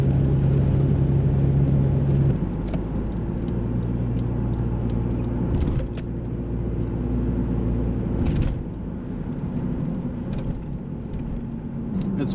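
A 1997 third-generation Toyota Hilux Surf drives along with a steady, close engine rumble and road noise throughout, its pitch shifting slightly as it changes speed, with a few faint clicks and no talk.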